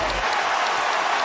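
A basketball arena crowd claps and cheers in a loud, steady wash of applause that fills the whole moment.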